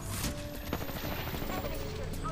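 Gunfire in an Apex Legends ranked Arenas match: a rapid stream of automatic shots crackles continuously under voice chat, dense and fairly close.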